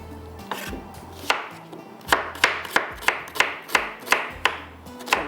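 Knife chopping onion on a cutting board, a run of roughly a dozen crisp, evenly spaced cuts close up, with no talking.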